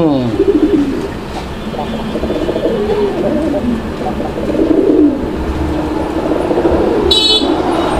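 Fancy pigeons at a market stall coo in low, repeated rolling calls close by, with continuous street traffic and a brief car horn toot near the end.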